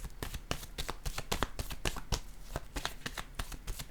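Tarot cards are shuffled by hand in quick rapid riffles, a dense run of close crisp flicks and slaps, continuous and fairly loud with no voice over it.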